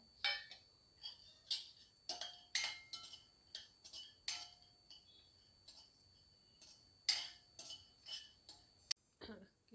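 Coconut pieces tossed dry in a pan for Maharashtrian kala masala give repeated clinks and scrapes of a spatula against metal, sharp irregular taps close by with quiet gaps between them.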